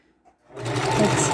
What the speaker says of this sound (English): now I'm going to stitch across